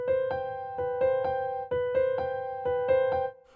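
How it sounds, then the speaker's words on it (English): A keyboard plays a simple melody starter of short repeated synth notes in a steady rhythm, a few clean tones recurring in a short pattern, heard alone without talk. "7-1-5 melody starter, and the melody starter sounds like this."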